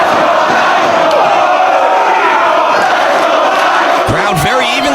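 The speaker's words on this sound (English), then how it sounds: "Crowd very evenly split for their support of both these athletes." A dense wrestling crowd at a 2007 Ring of Honor tag match roars and cheers continuously, loud and close, with overlapping shouts and chants forming a sustained wall of noise.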